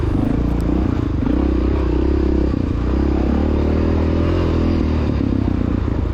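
A 1993 Honda XR600R motorcycle rides through a flowy off-road race course in second and third gear, its engine droning steadily and loud with shifting pitch alongside clattering and scraping from the trail.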